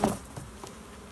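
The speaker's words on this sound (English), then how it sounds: "There's bees on us," A swarm of bees hums around close by in a short, soft stretch of buzzing, with a slightly stronger burst at the start before settling into a faint steady drone.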